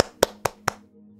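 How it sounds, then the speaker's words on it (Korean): Three sharp, evenly spaced hand claps, close and crisp, each ringing briefly in a quiet room with no voices. "그리고 박수가 터져 나오셔야죠."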